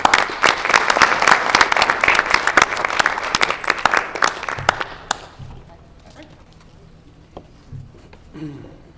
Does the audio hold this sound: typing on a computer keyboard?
no